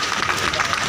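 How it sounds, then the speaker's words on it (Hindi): Crowd at a Congress party gathering honouring MCD workers applauding, dense steady clapping close by while a voice speaks over it. "आपके लिए भी तालियां"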